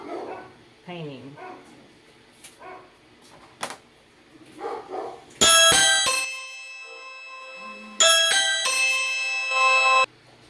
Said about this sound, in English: My dogs were going crazy because I got my delivery of my resin